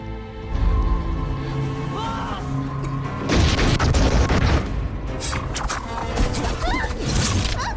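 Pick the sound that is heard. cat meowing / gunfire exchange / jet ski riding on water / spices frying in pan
gunfire exchange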